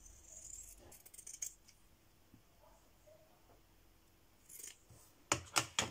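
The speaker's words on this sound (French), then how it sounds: "Il me manque le bas à couper." Pinking shears snipping green fabric, quiet close snips at first with a room hush between, then a few louder crisp cuts toward the end.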